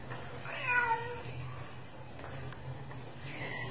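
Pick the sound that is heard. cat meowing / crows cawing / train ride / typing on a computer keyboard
cat meowing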